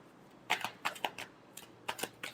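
Tarot cards are shuffled by hand in a quick series of soft, papery riffling bursts, about eight close, light flutters spread unevenly over a couple of seconds against a quiet room.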